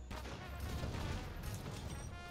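Massive Wyvernstake cannon explosions from a Gunlance in Monster Hunter World, a loud, continuous roar of blasts and booming rumble filling the whole stretch without a break.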